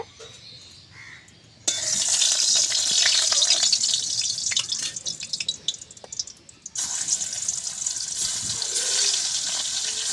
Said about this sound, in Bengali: তেল দিয়ে দিলাম কড়াইতে মাছ ভাজার জন্য।